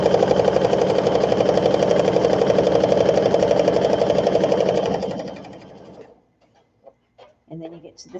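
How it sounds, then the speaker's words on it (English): A sewing machine stitching a baby sunsuit runs steadily for about five seconds with a fast, even mechanical rattle, then slows and stops, followed by a few faint handling sounds. "Now you can sew forward, back, forward, or you can do it this way too."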